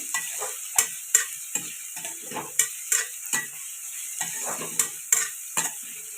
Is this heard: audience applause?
no